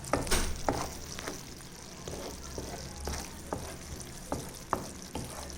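Prawn thokku frying in a pan, a soft, fairly quiet sizzle broken by sharp spatula taps and scrapes at irregular intervals, heard up close.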